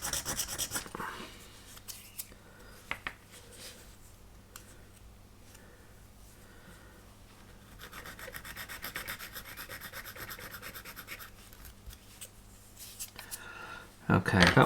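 Small wooden ship model part having its nub filed down by hand, soft scraping and rasping strokes close by, quiet at first and growing busier later, with a louder burst at the end.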